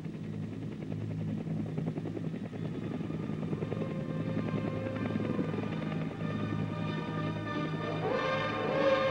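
A Japan Ground Self-Defense Force helicopter's steady rotor thrum and engine drone during a 1966 exercise over highlands in Mie Prefecture, fairly distant and constant, growing slightly louder toward the end, no one speaking.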